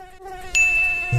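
A mosquito whines close by in a thin, high-pitched, steady buzz that swells louder partway through, with no one speaking.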